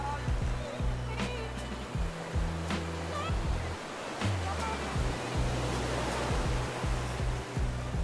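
Ocean waves wash onto a beach in Puerto Rico as a steady roar of surf, with a low musical backing and a voice speaking over it.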